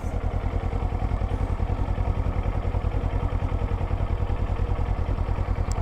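A motorcycle riding in second gear, its engine putting out a close, steady pulsing rumble with even rapid firing beats throughout and no speech over it.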